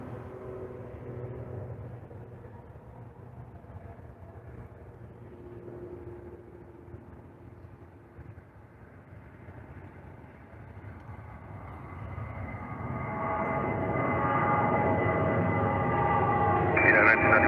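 A Lufthansa airliner, Flight 402, rumbles at an airport in a distant, steady low roar that swells louder toward the end as it arrives and taxis, with radio chatter and voices in the background.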